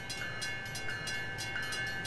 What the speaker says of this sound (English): I'm expecting train 6 to pass.